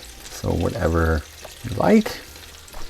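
Pork schnitzel pan-frying at home until crispy, giving off a soft steady sizzle that sits low beneath a person speaking clearly over it.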